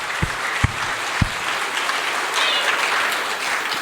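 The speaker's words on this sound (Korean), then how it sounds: "하나님께 영광의 박수" A church congregation breaks into applause during a Sunday service, a few sharp individual claps at first, then a sustained, even wash of many hands clapping.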